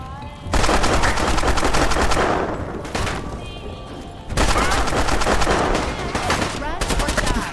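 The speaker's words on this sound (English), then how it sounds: "Keep shooting at me, I don't care." Sustained automatic gunfire from the video game Fallout 4, loud and dense in long rapid bursts with a brief lull midway before the shooting resumes at full intensity.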